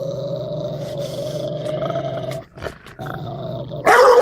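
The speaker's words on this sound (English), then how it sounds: "now let's check out their bark of the Rottweiler" A Rottweiler gives a loud, deep, sustained growling bark that rumbles for a couple of seconds, breaks off briefly, then resumes and ends in a sharper, harsher burst.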